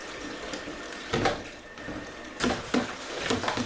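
Nettles are rinsed under a running kitchen tap, a steady splashing water stream with irregular louder splashes and gurgles as the leaves are moved around, close by and alone without speech.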